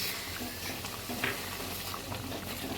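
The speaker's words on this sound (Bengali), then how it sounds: "আমি এবার একটু জল দিয়ে দিচ্ছি অল্প করে" Water poured into a pan of frying tofu, bubbling sizzle and crackling hiss with light stirring and patter, moderately quiet and close, with no speech.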